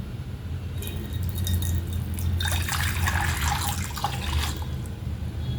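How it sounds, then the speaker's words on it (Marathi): Water runs and trickles steadily into a metal pressure cooker, a continuous splashing pour lasting several seconds over a low background hum. "त्यात थोडं पाणी टाकून घ्यायचं आहे आपल्याला"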